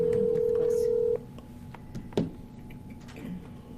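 A telephone on speakerphone in a township board meeting room gives a steady tone for about a second, then faint clicks and ticks follow over quiet room noise.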